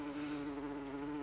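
A large, fat bumblebee flies in through the open door of a Mercedes Sprinter van, giving a steady, close, loud droning buzz with no talk over it.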